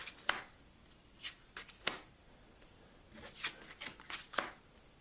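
A deck of cards is shuffled and cut for a solo card game: quick papery riffles and snaps come in short, close bursts with quiet gaps between them.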